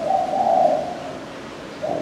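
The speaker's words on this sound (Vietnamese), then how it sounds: "con chim này nó gù liên tục cho nó không có ngưng ngứng gì đâu nha nè" A spotted dove coos loudly and close by in a long, steady, droning call that fades, then starts again at the end.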